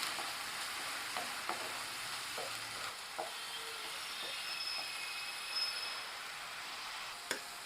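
Onion paste from two medium large onions is stirred in a pan for egg kurma, giving a steady soft sizzle with occasional faint scrapes of the spoon, no talking.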